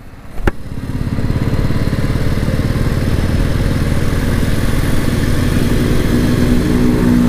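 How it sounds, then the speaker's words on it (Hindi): A Royal Enfield Bullet motorcycle engine thumps loudly and close by during an informal race, a single sharp knock at the start giving way to a steady, deep, pulsing drone that builds slightly and holds. "ये बुलेट के साथ रेस है, बुलेट के साथ रेस।"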